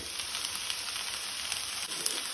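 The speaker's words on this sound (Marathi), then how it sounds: "पनीर घातल्यानंतर बरे मिक्स करून घेऊया।" Paneer bhurji being stirred in a frying pan after salting, giving a steady, close hiss of sizzling that runs unbroken through the moment.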